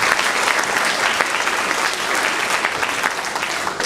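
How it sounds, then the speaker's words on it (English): Sustained applause from a school concert audience in a hall, dense, even and fairly loud from start to finish with no break. "let's give him a big clap in his absence"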